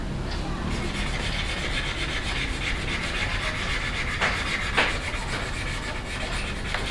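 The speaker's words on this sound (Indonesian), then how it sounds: "Gosok terus, yang bisa dihilangkan kita hilangkan" A dirty motorcycle helmet is scrubbed by hand while being washed at home, making a steady, close, continuous rubbing and brushing noise with a couple of brief sharper scrapes partway through.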